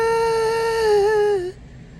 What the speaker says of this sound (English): I'm going to teach you how to sing falsetto.